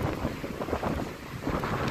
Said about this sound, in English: Fierce wind though coming off the lake.